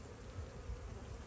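Bees buzz around a beehive on a warm day, a dense, steady drone that stays close and continuous for a brief moment.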